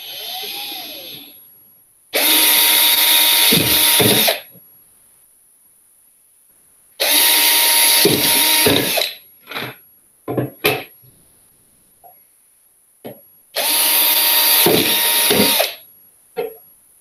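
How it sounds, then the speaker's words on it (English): A power drill whirs in three separate bursts of a couple of seconds each, with short clicks and knocks in the pauses between. "And my drill."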